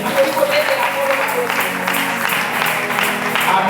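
A church congregation at a French-language sermon applauds and cheers for Jesus, a loud, sustained wash of clapping and voices filling the room.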